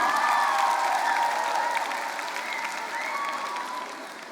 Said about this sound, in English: Can we give a huge round of applause for our negative team?